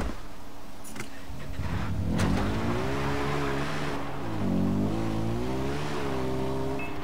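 Stolen car in Far Cry 4 driving off, engine revving and droning steadily with rising and falling pitch, fairly close and loud throughout, no talking.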